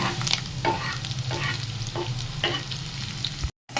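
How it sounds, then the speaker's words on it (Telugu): Garlic and chillies sizzle steadily in hot oil in a pan, with a few soft stirring scrapes and a brief dropout near the end. "గార్లిక్ను చిల్లీస్ ఫ్రై చేస్తున్నా."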